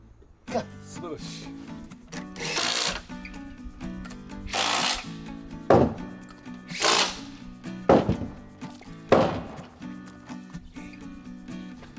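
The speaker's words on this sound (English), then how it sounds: "I can adjust the position of the sills to be straight by temporarily tightening the nuts and hitting them with a wooden maul." A wooden maul knocking timber sill plates into straight alignment on a concrete foundation, with several loud, spaced thuds over a steady background hum, close by.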